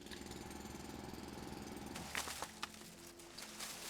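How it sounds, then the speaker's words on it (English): A handheld drill grinds into a tree in the Foundry factory game, a continuous rough buzzing with a few sharp knocks and cracks toward the end as the trunk gives way. No voices are heard. "If I grab my trusty drill and go and take a tree out."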